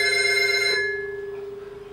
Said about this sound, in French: Par exemple des téléphones. Des téléphones qui sont très agressifs.